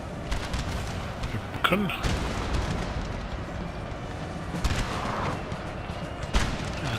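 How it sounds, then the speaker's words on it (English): Massed musket volleys from line infantry crackle in a Napoleon: Total War battle, a dense rumble of distant gunfire with sharper reports now and then, under a voice. "these guys need to keep firing on these guys"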